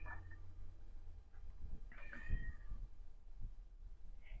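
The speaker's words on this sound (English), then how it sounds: "I apologize for the cat in the background." A cat meows a few times in the background indoors, faint and drawn out over a low steady room hum.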